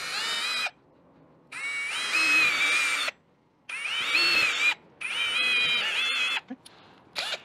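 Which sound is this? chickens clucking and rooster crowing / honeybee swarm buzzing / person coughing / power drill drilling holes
power drill drilling holes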